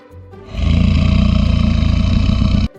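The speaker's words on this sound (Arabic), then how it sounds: "crocodile," A crocodile lets out one sustained, deep, throbbing roar lasting about two seconds, loud and close, with a rapid pulsing texture before it stops abruptly.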